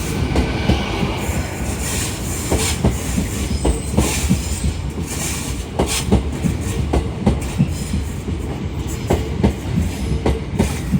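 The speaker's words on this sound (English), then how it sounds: "Goes 801-207 and 801-108 to London King's Cross from Edinburgh Waverley." Two coupled Class 801 trains, 801-207 and 801-108, passing through Carlisle station on the West Coast Main Line, a loud close rumble with rhythmic wheel clatter and squeal sustained throughout.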